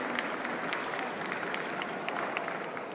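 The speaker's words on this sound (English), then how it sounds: "Give them a big round of applause." Audience applause ringing out at a dog show's junior handling competition, a steady, dense clatter of many hands clapping throughout with no break.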